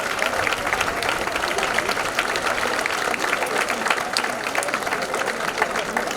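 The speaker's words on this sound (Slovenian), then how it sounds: "Prosim za en aplavz za vse današnje sponzorje." Audience applause at an outdoor May Day celebration in Opatje selo, 2022, a dense, steady clapping from a sizable crowd that holds at an even loudness for about six seconds without a break.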